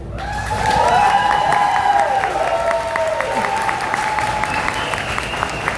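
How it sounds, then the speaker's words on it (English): Audience applause and cheering at a real-estate lenders' competition event, a loud, sustained crowd of clapping with tonal whoops and shouts rising over it. "please make sure you clap for them"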